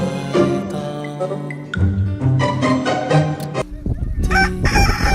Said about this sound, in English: I wonder if these are chickens or turkeys.